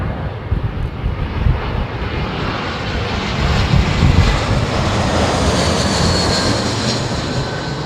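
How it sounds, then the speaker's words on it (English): Airliner jet engines at a windy London Heathrow Airport, a loud continuous roar that builds slightly midway and holds steady throughout, with no talk over it. "Listen to those big engines whirring away"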